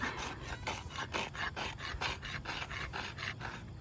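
A farrier's rasp files a horse's hoof in quick, even back-and-forth strokes, about three per second, close and clear with no talk.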